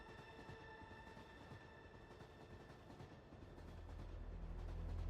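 A train ride in the Wuthering Waves video game gives a quiet, steady rail rumble with faint tonal hum, swelling louder in the final second as the carriage noise builds.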